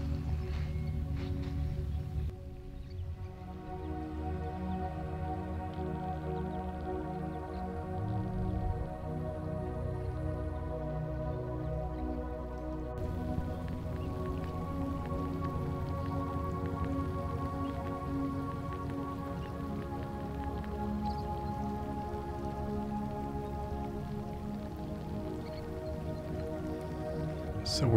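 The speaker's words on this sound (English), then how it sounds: "that's all crabs moving within the grass, the water, and eating." Crabs moving through salt marsh grass and shallow water at low tide on Long Island, feeding, make a faint, continuous crackle of tiny clicks and pops, like light rain on a surface.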